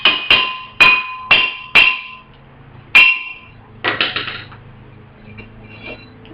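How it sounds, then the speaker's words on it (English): Five sharp metallic hammer taps ring out on a rusted brake rotor of a 1999 Chrysler Town & Country, evenly spaced at first, followed by softer clinks and rattles of loosened rust falling to the ground. "You'll just want to tap it all around the rotor just to, and you'll probably hear the rust hitting the ground"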